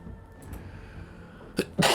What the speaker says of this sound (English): Sorry, sneezed right there.